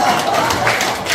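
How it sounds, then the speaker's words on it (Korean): Church revival meeting audience clapping loudly, a brief burst of dense continuous applause. "15초 동안 큰 소리로 박수 치면서 시작"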